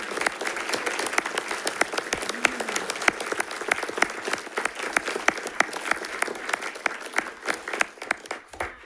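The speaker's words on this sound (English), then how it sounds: "will you please stand up so we can give you a big round of applause?" A school board meeting audience applauds candidates who stand to be recognized, producing a steady patter of individual claps at moderate volume. Each clap is distinct rather than merged into a roar, and the sound continues evenly for several seconds.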